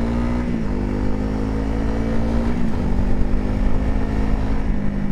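Honda CRF300L motorcycle engine labouring up a steep snowy mountain track in fourth gear, a steady loud drone with a sustained low hum that holds fairly even throughout with slight surges.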